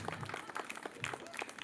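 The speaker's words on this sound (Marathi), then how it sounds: "टाळ्या वाजवायच्या." A group claps together in short rhythmic bursts, awarding points to a team at a Scout-Guide school gathering on 26 January. The clapping is moderately loud, close by and fairly steady throughout.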